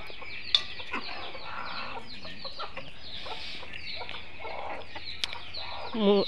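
Chickens cluck and murmur continuously nearby, with a few sharp peeps and a short squawk toward the end.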